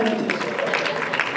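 An audience at a stand-up comedy show in Burundi applauds a comedian with steady, dense clapping throughout this short moment, and a voice is faintly heard beneath the applause.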